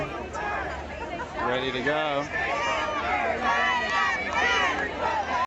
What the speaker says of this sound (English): The crowd is big.